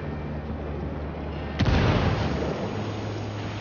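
A frag grenade goes off in Ghost Recon Wildlands as one sudden deep boom with a rumbling tail, standing out above a steady background hum.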